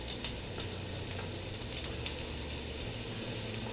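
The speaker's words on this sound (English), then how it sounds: "We are gonna throw in our first ingredient, which is gonna be onion. It's gonna get a nice sizzle on it." Onion sizzling in a hot pan, a steady close crackle and hiss with occasional stirring sounds.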